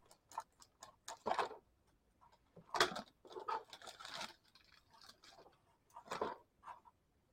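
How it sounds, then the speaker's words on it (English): Small scissors snipping plastic model kit parts off the sprue for a USS Arleigh Burke DDG-51 destroyer model: a series of sharp, close, quiet clicks and snips in irregular bursts, with brief rustling between cuts. "With my trusty small pair of scissors."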